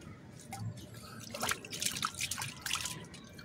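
Water drips and trickles from plant potting medium squeezed underwater while repotting flytrap plants, a scatter of close, irregular drips and small splashes over a few seconds.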